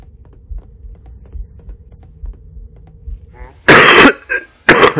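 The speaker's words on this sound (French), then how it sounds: "Désolé si je tousse." A person coughs twice in quick, loud bursts close to the microphone during a Halo Combat Evolved Anniversary game session, with a low game hum and soft ambient sounds underneath.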